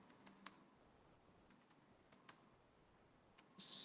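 Keyboard typing on a computer during a cybersecurity demo entering a search command, a few faint scattered key clicks, quiet and close, ending in a louder burst of clatter.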